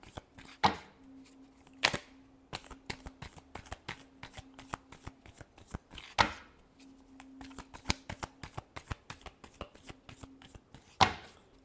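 Tarot cards are shuffled by hand for a Gemini horoscope reading: rapid close riffling and flicking with several sharper slaps, steady and busy throughout, with no talk.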